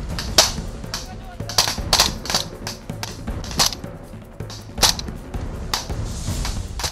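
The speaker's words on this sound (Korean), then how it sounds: "칠흑 같은 어둠을 찢는 총소리, 떨어지는 포탄에 간담이 서늘해진다" Sharp gunshots crack repeatedly at irregular intervals during military night combat training with falling artillery shells, some close and loud, others fainter, over a low rumbling background.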